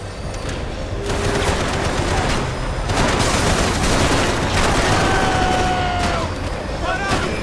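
Rapid video-game gunfire in Max Payne 3, a dense, loud fusillade of overlapping shots and bursts running nearly the whole time, with a few brief lulls and sharp single cracks near the end.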